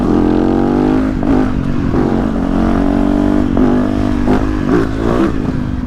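A Yamaha YZ450F supermoto motorcycle engine runs loud and close, a steady deep throb with small rises in revs throughout.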